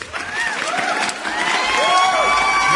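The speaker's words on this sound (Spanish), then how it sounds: "Gracias por aplaudir." A class of students claps, cheers and whoops in a noisy burst of applause, with excited shouting voices mixed in throughout.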